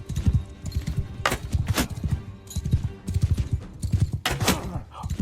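Horse hooves in the medieval combat video game Bannerlord, a loud, rhythmic clip-clop of galloping close by, mixed with sharp game impacts and a voice talking over it.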